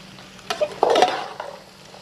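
Capsicum goes into a pan of frying Chinese rice and gets stirred, giving a soft sizzle with scraping utensil strokes in a brief quiet burst, and no talking.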